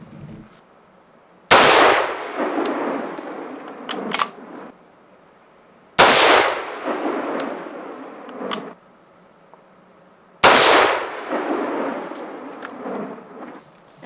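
Three loud .308 Winchester rifle shots fired with factory Norma hunting ammunition, evenly spaced about four seconds apart, each a sharp crack followed by a rolling echo that fades before the next.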